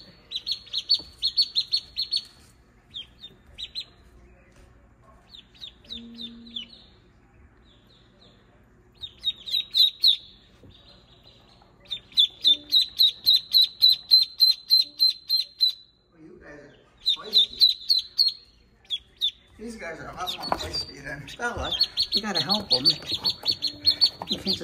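Newly hatched Pekin ducklings chirp in rapid high peeping bursts, close and repeated, and toward the end a person talks and there is handling noise beneath the chirping.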